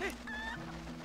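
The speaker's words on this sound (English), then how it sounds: "golden cuckoo" A golden cuckoo, the chicken-like bird from the video game Zelda: Twilight Princess, gives a quick burst of squawking clucks, with a short rising squeal followed by a lower held cluck, fairly close and alone.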